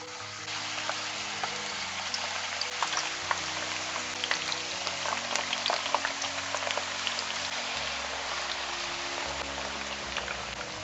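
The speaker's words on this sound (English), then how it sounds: "you can see now, the oil is hot. We just put in our sweet potato." Continuous crackling and sizzling of sweet potato frying in hot oil, a dense hiss with scattered pops, steady and close throughout.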